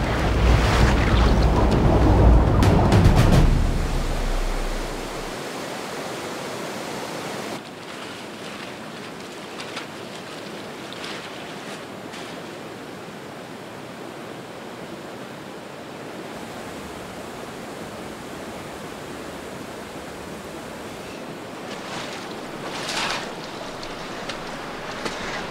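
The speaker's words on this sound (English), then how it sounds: "the water in these rapids is freezing cold" Rushing rapids in the Sierra Nevada mountains, a steady broadband roar of white water with a louder, closer surge at first that settles into a constant wash.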